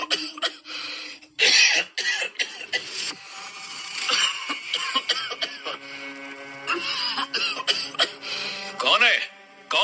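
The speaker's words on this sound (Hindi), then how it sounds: "तभी उसका दम घुटने लगता है और वो जोर जोर से खांसने लगता है" A man in a Hindi suspense drama chokes and coughs hard in several harsh bursts, mixed with voices and other dramatic sounds.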